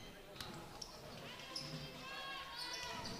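A basketball is dribbled up the court during a youth cup final between Stjarnan and Breiðablik, its bounces sounding as regular thuds under crowd noise and a commentator's voice.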